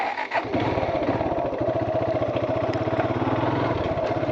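A motorcycle setting off for a ride, its engine running steadily with a rapid, even low thrum that holds loud and close throughout, no talking.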